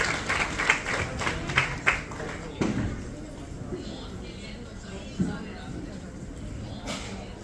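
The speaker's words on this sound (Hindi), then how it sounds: "आपकी जोरदार तालियां इस प्यारे से खूबसूरत से पल।" An audience claps in a burst of applause welcoming a chief guest onto the stage at a hotel event in Agra; the clapping is loudest at the start, then thins into scattered claps and murmur.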